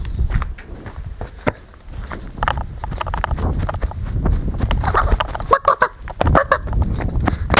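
A hen clucks in short, close, uneven bursts among scuffling footsteps and rustling, louder toward the middle and end.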